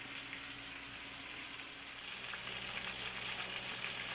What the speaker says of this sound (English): We got the fillets in there frying right now